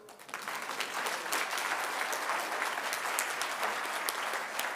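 An audience at an African Anti-Corruption Day commemoration in Kenya breaks into sustained applause, dense and steady hand clapping filling the hall for several seconds.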